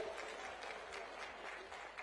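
A crowd claps at a political rally in Jind, a dense, continuous patter of applause, faint and distant throughout the short stretch.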